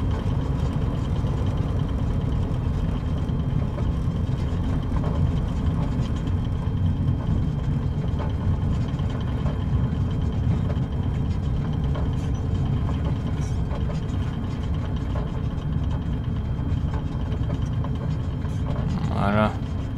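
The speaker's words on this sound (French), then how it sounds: "Donc maintenant je vais garer l'avion à son petit parking." A light aircraft taxis toward the end of the runway, its engine a steady, continuous low rumble throughout with no pauses, close and fairly loud, ending with a brief higher whine.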